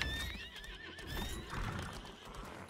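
A horse mount neighs and whinnies in the fantasy video game Lost Ark, with clip-clopping hooves underneath, fairly close and steady for a few seconds, no talking.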